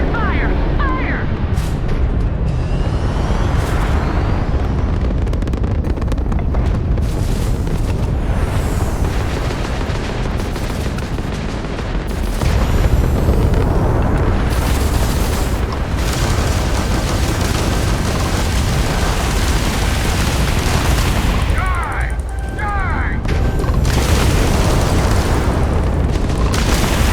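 Spaceship weapons fire and explosions in the Starfield video game, a continuous barrage of booming blasts and rumbling bursts that stays loud for the whole stretch, with voices speaking over parts of it.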